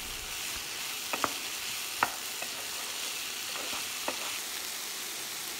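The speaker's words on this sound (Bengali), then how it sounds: "আমি প্রায় 2 মিনিটের মতো নেড়ে চেড়ে সবজিগুলো ভেজে নিয়েছি।" Vegetables for oats khichdi fry in a pan with a steady, soft sizzle, punctuated by a handful of brief scraping stirs of the spatula, close and fairly quiet, with no talking.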